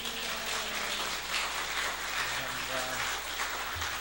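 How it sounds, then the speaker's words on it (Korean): A church congregation applauding and cheering to welcome the pastor, a steady dense wash of clapping filling the room with some voices mixed in, continuous and fairly loud throughout. "큰 박수와 함성으로 할렐루야로 환영하시겠습니다"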